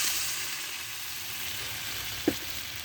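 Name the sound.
rohu fish curry with Malabar spinach and taro cooking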